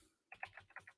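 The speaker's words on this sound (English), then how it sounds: "I'm typing too fast." Quick bursts of typing on a computer keyboard, about six sharp close key clicks in a fast uneven rhythm, heard alone and fairly quiet.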